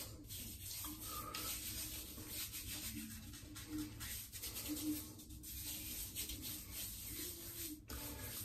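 Hands rubbing shaving lather onto a wet head, a soft, continuous close-up rubbing and squelching that stays faint and even throughout.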